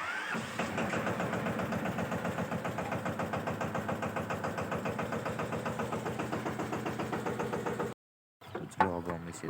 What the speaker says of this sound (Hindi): तो चलो मैं ट्रैक्टर लेकर आता हूँ।